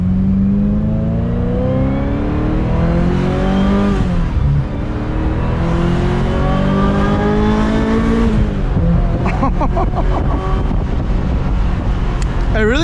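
A 25-year-old Ferrari engine revving toward high RPM, loud, rising sweeps of pitch through repeated gear pulls, with short drops between shifts and wind rush throughout.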